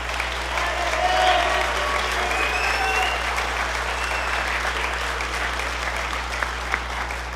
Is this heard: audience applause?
yes